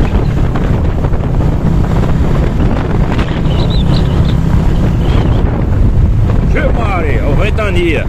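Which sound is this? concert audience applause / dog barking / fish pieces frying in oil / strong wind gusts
strong wind gusts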